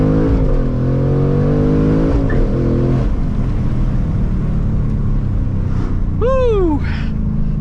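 A Ford Mustang Mach 1 with a Tremec manual gearbox accelerates hard, its engine note rising in loud, steady harmonics, then dipping through a no-lift shift and climbing again, with a high tire or whine sweep near the end.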